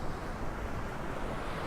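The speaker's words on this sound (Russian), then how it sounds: "Волна свинцовая какая-то." Surf rolls in steadily on Miami Beach the day before Hurricane Irma, a continuous broad wash of breaking waves with wind noise, loud and close, no voices.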